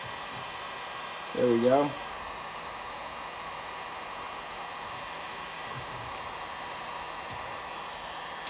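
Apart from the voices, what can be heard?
heat gun heating car undercoating for removal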